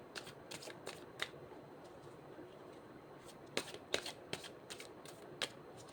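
Tarot cards shuffled by hand during a reading, a quiet close-up run of irregular crisp riffling snaps and soft papery flutters with pauses between bursts.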